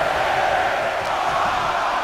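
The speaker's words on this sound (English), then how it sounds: "Listen to this crowd" A roaring arena crowd in the WWE 2K23 video game during a Royal Rumble match, a dense, continuous wash of cheering and shouting that holds steady and loud throughout.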